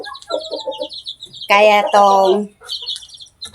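Chickens cluck and squawk on a chicken farm: scattered clucks, then a loud, close burst of squawking calls midway, with someone speaking briefly.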